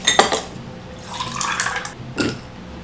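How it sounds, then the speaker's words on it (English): Water poured from a container into a glass holding fun-shaped ice cubes in a home kitchen, giving a couple of short splashing, gurgling bursts with faint clinks, close and fairly quiet with no talking. "And I'm gonna pour my water."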